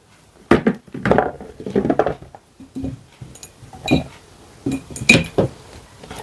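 Whole cucumbers are packed tightly into a glass jar for fermenting, giving close, irregular knocks and glassy clinks as each one is pressed into place, with quiet rustling between.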